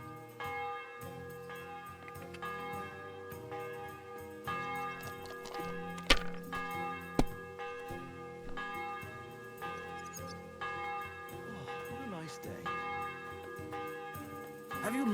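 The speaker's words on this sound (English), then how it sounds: "The bell's ringing for Hans the fifth time." A bell ringing in the video game Kingdom Come, resonant metallic strikes repeating over a steady ringing tone, alongside ticking and occasional thunks.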